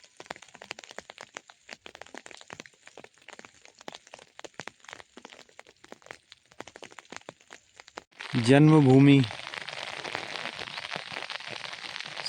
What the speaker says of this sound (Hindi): छाते की टिप टिप आपको सुनाई दे रही होगी।